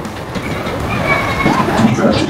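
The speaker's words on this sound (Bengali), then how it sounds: "গাইস, আমরা এখন ট্রেনে উঠছি" A small amusement park toy train at Golden Star Park in Narsingdi runs with a steady, loud rumble and faint rattling, close by, while people talk over it.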